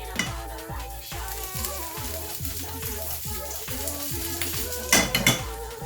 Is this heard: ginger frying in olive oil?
yes